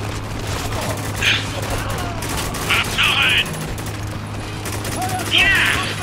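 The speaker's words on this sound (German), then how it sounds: "Schweres MG!" Heavy machine gun fire in Spec Ops: The Line, several short bursts with ringing metallic peaks heard over a steady low hum of battle, with soldiers talking in the background.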